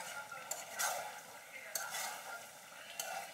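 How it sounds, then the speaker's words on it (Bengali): Chicken curry cooks in oil in a pan with a quiet sizzle while a utensil scrapes and stirs it, giving a few sharp clinks against the metal at irregular moments, close and fairly faint. "ভালো করে আরেকটু কষিয়ে নেব"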